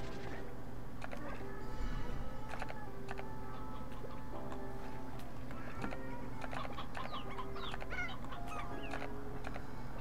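Chickens in the video game Slime Rancher 2 cluck in repeated short calls over a steady in-game background hum, mixed with clicking that sounds like typing.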